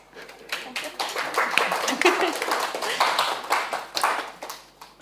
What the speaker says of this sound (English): we need to give her a big round of applause.